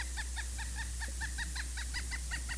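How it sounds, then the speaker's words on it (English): A bird repeats a quick, rhythmic series of sharp calls in the background, fairly faint over a steady low hum, with no talking. "It's a woodpecker."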